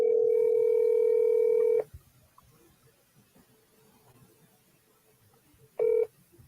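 A telephone handset plays a steady tone that cuts off after a couple of seconds, then a brief ringback tone returns near the end, with quiet room noise between and no talking.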